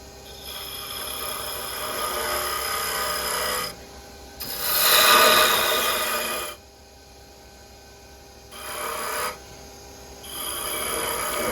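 Lathe tool taking light cuts on the stem of a wooden spinning top, a steady rasping hiss that swells louder in bursts around the middle and again near the end, with quieter pauses between passes.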